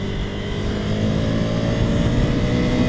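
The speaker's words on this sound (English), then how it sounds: "There's the type of engine I like." Steady engine drone of a 2020 Ducati Scrambler Desert Sled motorcycle on the road, a loud, continuous rumbling hum with layered harmonics that swells slightly midway, heard close with no speech over it.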